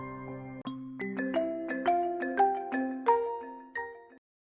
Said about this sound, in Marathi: अरे घे ना, कोणाचा फोन आहे?